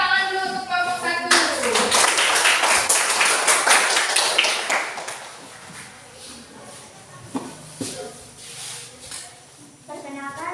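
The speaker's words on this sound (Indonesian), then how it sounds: "Tepuk tangan dulu untuk kelompok 1." A classroom of students claps for group 1, a loud burst of many hands that starts suddenly, holds for a few seconds, then fades into scattered taps and room murmur.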